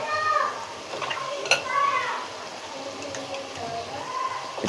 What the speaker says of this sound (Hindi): 2 से 3 चम्मच डालेंगे दही, अब इसे अच्छी तरह से मिक्स कर लेंगे।